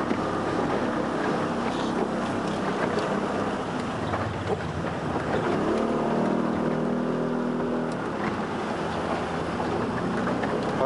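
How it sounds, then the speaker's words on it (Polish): A motorboat planes across open water, its engine droning steadily and close for the whole stretch, mixed with wind buffeting the microphone and faint splashing. "Łódka się dźwiga, płyniemy na tylnym kole."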